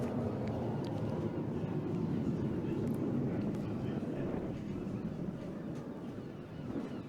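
Saab J-35 Draken jet, a heavy delta-wing Mach 2 fighter carrying four drop tanks, roaring steadily through an air display, a broad continuous rumble with wind buffeting and no clear peak of passage.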